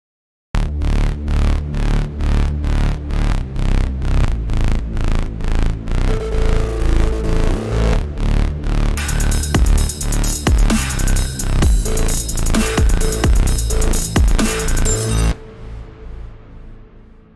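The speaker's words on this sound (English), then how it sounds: "you get that really thick bass sound like this" Thick synth bass line pitched down an octave, pulsing in a steady rhythmic pattern that is soon joined by drums and layered loops, loud and continuous before cutting off into a fading tail.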